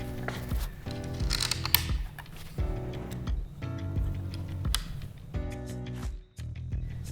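An Allen wrench screwing ski bindings back onto a ski, a series of quick rhythmic ratcheting clicks in repeated bursts of about a second, close and crisp with short pauses between turns.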